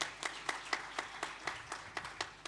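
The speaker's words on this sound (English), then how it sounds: "let's give a round of applause to the panelists who shared" Applause for panelists at a conference on agri-food systems, heard as regular, evenly spaced claps of roughly four per second, fairly close and thin, like a few people clapping in a room.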